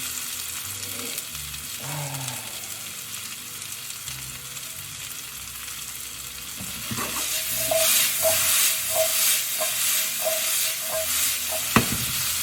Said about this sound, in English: you want the potatoes to get nice and brown, caramelized, get those sugars working